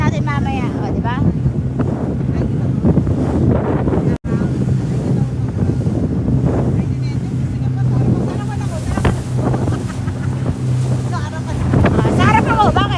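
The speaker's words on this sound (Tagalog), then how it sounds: "Lakas ng hangin eh." Strong wind buffets the microphone on a boat out at sea in Dubai, a loud continuous rumbling roar with engine hum and water beneath it, while people talk over it.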